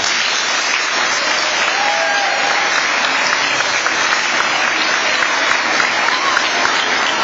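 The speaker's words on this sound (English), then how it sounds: "So you should all give yourself a round of applause." Students in a school setting give a loud, sustained round of applause, steady dense clapping filling the room with no talk over it.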